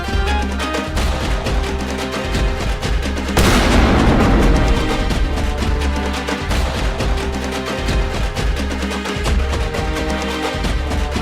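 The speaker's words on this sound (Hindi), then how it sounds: "गब्बर और सांबा हर जगह पटाखे गिराते हैं और वहाँ से भाग जाते हैं।" Cartoon firecrackers go off in a loud, dense burst of crackling bangs and booms. One big blast stands out near the start, and a steady thunder of detonations continues without talk.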